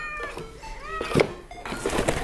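A cat meows several times near a cardboard cat castle, short rising and falling cries close by and fairly soft in a quiet room.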